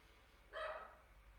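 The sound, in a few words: Shih Tzu dog barking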